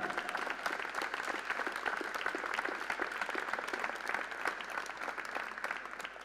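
Steady crowd applause at the final of a pool world team championship, a continuous wash of many hands clapping at moderate volume throughout, with no pause.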